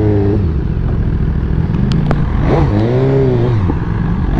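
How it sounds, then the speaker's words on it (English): An Aprilia RS660 sport motorcycle engine revs and drones up close on city streets, pitch rising and falling through blips of the throttle over steady wind noise. "On the new Aprilia."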